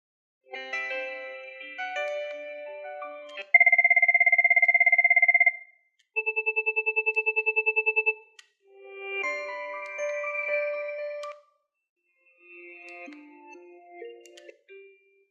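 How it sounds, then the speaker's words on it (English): Several built-in ringtone samples from a Cisco 7841 IP phone play one after another, each a short electronic melody or steady beeping tone separated by brief silences, clear and close without any voice. "Highlight the various ringtones and sample each of them by pressing the Play soft key."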